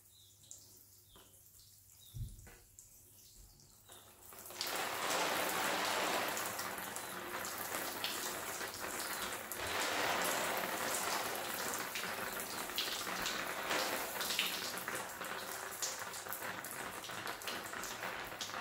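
Water sprinkled over a freshly repotted mulberry bonsai and its moss, a steady outdoor hiss like light rain that starts abruptly after a few quiet seconds and continues evenly to the end.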